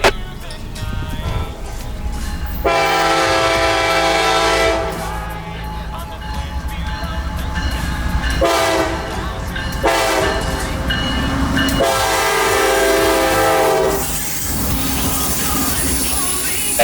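CSX locomotive number 1982 leads a southbound freight train past Lake Wales Junction, its loud horn blaring in several long, sustained blasts over the steady rumble and rolling clatter of the passing cars.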